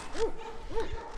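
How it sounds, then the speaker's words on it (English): A young female livestock guardian dog at a farm rescue gives two short, high yipping barks about half a second apart, close by. "Livestock guardian dog."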